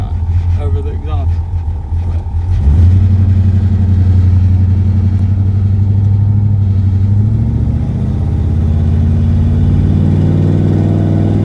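A 1974 Chevrolet Camaro's exhaust rumbles loud and close, idling at first, then rising into a steady, heavy drone that holds as the car drives off, with someone talking over it.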